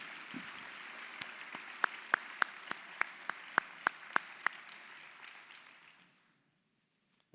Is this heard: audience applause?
yes